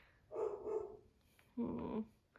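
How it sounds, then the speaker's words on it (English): Two short bursts of dog barking, muffled and somewhat distant, separated by a brief pause in otherwise quiet surroundings. "All doggies are barking."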